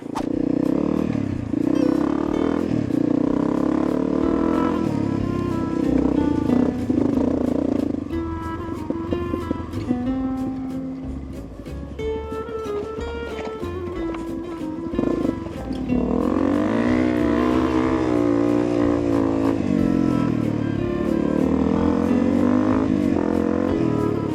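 A modern Honda XR250 dirt bike rides through open desert, its engine droning loud and continuous with pitch rising and falling as the throttle opens and eases, a mid-ride dip before it pulls strongly again.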